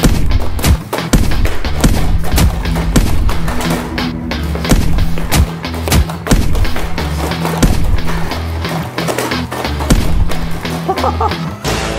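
Hard punches land again and again on a Booster Robotics T1 humanoid robot, a rapid run of loud, close thuds and thumps filling the stretch with barely a pause.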